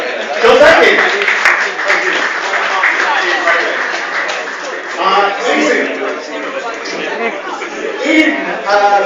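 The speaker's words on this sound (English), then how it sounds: "big round of applause" A convention audience at a sci-fi event gives a round of applause, steady clapping mixed with chatter, laughter and voices, fairly close and loud.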